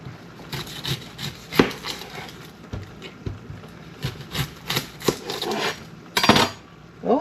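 A knife chops an onion on a wooden board in a home kitchen, irregular sharp knocks and scraping taps close by, bunched into quick bursts with short pauses, no talking.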